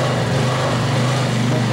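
A Honda EX650 portable generator engine with a slightly blocked carburetor runs close by, a loud, steady buzzing drone with a slight surging rhythm, heard alone.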